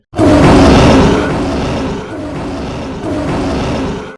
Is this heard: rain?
no